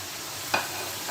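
Onion and tomato tipped into chicken frying in a pan for white korma, a continuous hiss of sizzling with one brief sharp clink partway through.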